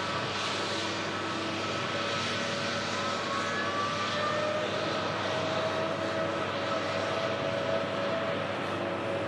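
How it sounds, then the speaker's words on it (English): A Dreamliner airliner roars steadily on the runway, a broad, loud continuous engine rumble and whine sustained throughout with no voices. "Dreamliner on its way to Melbourne."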